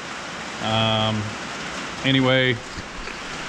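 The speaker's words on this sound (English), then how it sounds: "as you can see, it's pouring down rain" Heavy rain pours down in a steady hiss across the whole stretch, while a voice speaks in two short bursts over it.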